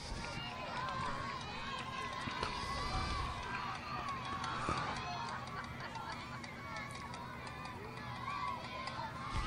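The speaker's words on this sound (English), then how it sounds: "Most excitable, intense crowd we've ever seen here" Excited crowd behind home plate at a 2009 softball playoff game: a dense, continuous babble of cheering and chatter heard under a close commentator's voice.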